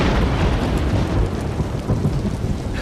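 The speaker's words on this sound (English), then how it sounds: "That's proper storm right there." Heavy rain pours down in a dense, constant roar while deep thunder rumbles beneath it, loud and close throughout.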